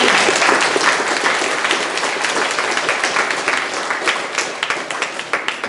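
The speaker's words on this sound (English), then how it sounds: "Please give them a massive round of applause." A large audience claps steadily, the dense crowd applause filling the whole stretch and thinning slightly toward the end.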